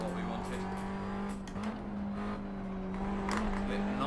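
A Formula 4 race car in a racing game at Brands Hatch, its engine holding a steady drone with slight pitch dips under braking and cornering, and a few brief tire or curb noises, heard beneath continuous talk.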